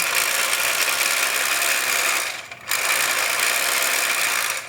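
A rebuilt pool cleaner's cam gear mechanism whirs and ratchets steadily up close, dipping briefly as the wheel reverses direction, then resuming its even mechanical drone.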